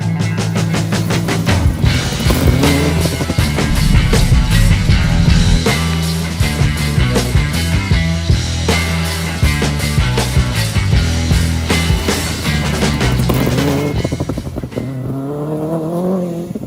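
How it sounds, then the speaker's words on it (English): A Porsche Cayman engine starting up with a rattly idle, a loud, steady mechanical drone with rapid clattering pulses that holds for a long stretch, and no talking over it. "Always a bit rattly on start up, these Porsches, aren't they?"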